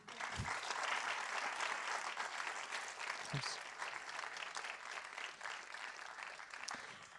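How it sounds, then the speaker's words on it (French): Audience applause at a forum on ethics and coexistence with living beings: steady, dense clapping from a seated crowd, moderately distant, with a few low thumps and faint voices underneath. "Vous pouvez l'applaudir."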